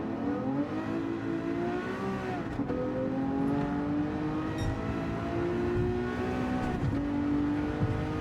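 A Diablo GT race car in Gran Turismo 7 holds a steady high engine drone, its pitch sliding and climbing through gear changes as it rolls through a corner and gets back on the throttle, loud and close with no talk.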